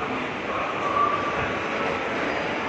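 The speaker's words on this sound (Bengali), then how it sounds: "আমার মেট্রো চলে এসছে" A metro train rumbles into an underground station on the Park Street line, a steady, loud, continuous roar of wheels and motors filling the space, with no talk over it.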